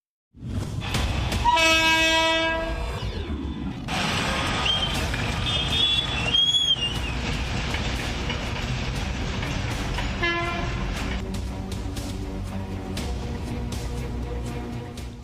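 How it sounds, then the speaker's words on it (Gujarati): A train crossing a railway level crossing at Savarkundla in Amreli, on the line carrying freight and passenger trains between Pipavav and Ahmedabad, blows several loud horn blasts over a steady rolling rumble of passing wagons. "પીપાવાવથી અમદાવાદ જતી માલગાડીઓ અને પેસેન્જર ટ્રેનોના કારણે એકવાર ફાટક બંધ થાય"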